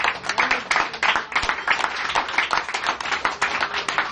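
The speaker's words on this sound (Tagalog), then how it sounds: "Palakpak na hindi nakasinitan. Palakpak para sa Diyos." A church congregation claps for God in dense, fast, continuous applause, close and steady throughout with no talk over it.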